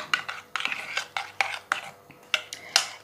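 A spoon stirs and clinks against a bowl of yogurt sauce seasoned with turmeric, pepper and salt, making a steady run of sharp close taps and scrapes in an uneven rhythm.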